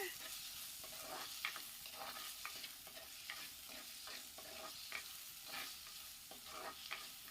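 Bitter gourd seasoned with turmeric sautéing in a pan: a faint, continuous sizzle punctuated by repeated scraping and clicking strokes of a stirring utensil, with no talking.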